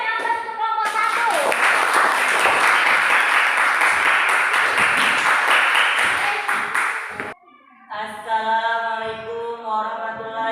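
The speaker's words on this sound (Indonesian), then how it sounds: "Berikan aplaus untuk kelompok satu" A group of people in a classroom presentation session clap for group one, a burst of loud, dense applause lasting several seconds, framed by speaking voices before and after.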